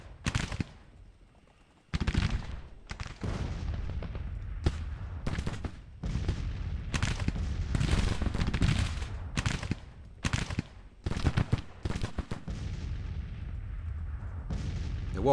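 Rifle volleys and artillery fire from the Civil War strategy game Grand Tactician crackle in dense, overlapping bursts, with a brief quiet lull near the start before sustained heavy gunfire continues loudly to the end.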